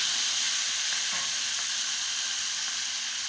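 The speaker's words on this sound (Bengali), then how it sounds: "এই দেখো, এখন আমি এই চিকেনটা ঢেলে দিচ্ছি।" Chicken for a kosa curry hitting a hot pan, a loud, steady broad hiss of sizzling that holds constant without pause.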